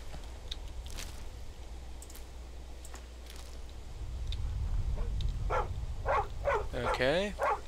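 Several quick barks from a dog in the video game Skyrim come in a short burst near the end, rising over a low rumbling game ambience, with a voice speaking over the final moments.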